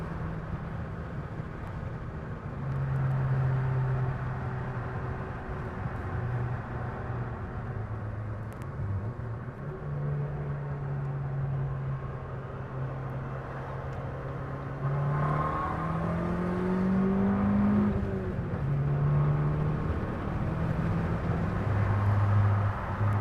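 A 2012 Fiat 500 Abarth engine pulling through the gears from inside the cabin: a steady droning hum that rises in pitch, drops at each shift and climbs again, loud and continuous with road noise underneath.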